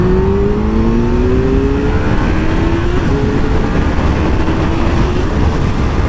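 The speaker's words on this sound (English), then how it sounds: "The acceleration's not so bad if you ride the bike all the way up through the gears" A 2016 Kawasaki Z800 ABS motorcycle accelerating hard through its gears, loud and close, with the engine note rising and then dropping at each shift change in a steady, continuous roar.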